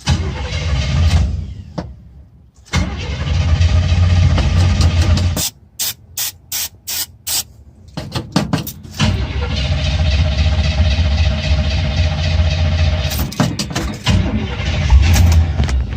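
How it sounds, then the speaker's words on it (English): A car engine cranks repeatedly in long grinding bursts, pausing between attempts, with short sputtering clicks in the gaps; it never quite catches. "Does it sound like it's trying to start?"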